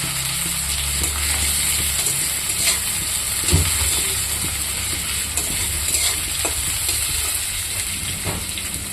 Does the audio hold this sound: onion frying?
yes